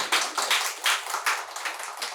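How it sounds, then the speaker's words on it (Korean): An audience in a church gathering gives a short burst of applause of thanks, quick overlapping claps close by that fade slightly by the end. "준비하신 모든 분들을 위해서 감사의 박수."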